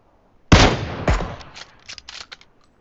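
A sudden loud gunshot burst from PUBG Mobile, followed by a second heavy shot and a trail of fading, echoing cracks and clatter.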